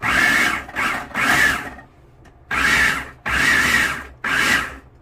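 A Hamilton Beach food processor with a scraper pulses roasted salsa in five loud, close, whirring bursts of about half a second each, separated by short pauses.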